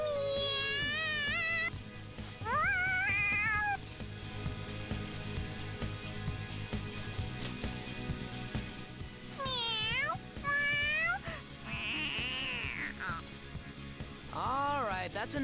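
A cartoonish cat meows repeatedly in the Persona 5 Royal video game, several rising and falling cries spread through the passage amid game audio and voices.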